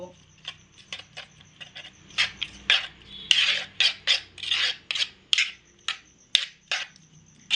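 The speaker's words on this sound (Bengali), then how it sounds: "এবার আমি এই সমস্ত উপকরণ একসঙ্গে একটা চামচ দিয়ে খুব ভালো করে মিশিয়ে নেব।" A spoon mixes egg, onion and gram flour in a bowl, making a steady series of close, rhythmic scraping and rasping strokes, each brief and repeated about twice a second.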